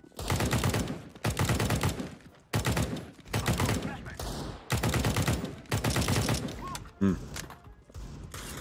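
Bursts of automatic gunfire from a rifle in a first-person shooter match, several loud sustained volleys separated by brief pauses, with a faint voice behind them.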